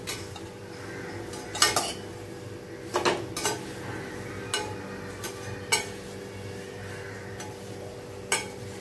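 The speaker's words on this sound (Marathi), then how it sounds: "आपल्याला हे पोहे जास्त भाजायचे नाही, थोडेसे असे गरम करून घ्यायचे आहेत फक्त।" Poha is dry-roasted and stirred in a pan, with a spatula scraping and clinking against the metal in irregular sharp knocks over a faint background hiss, without talk.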